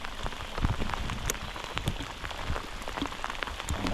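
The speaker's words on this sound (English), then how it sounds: "Look at all this rain." Rain falls steadily on a wet outdoor fishing trip, with dense close patter and individual drops hitting surfaces irregularly throughout.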